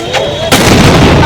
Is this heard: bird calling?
no